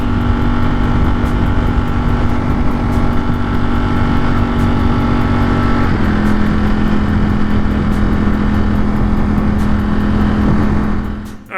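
A Ducati Streetfighter fitted with Gilles Tooling rearsets runs along the road, its engine droning loud and steady close to the listener, the pitch dropping slightly partway through before the sound cuts off at the end.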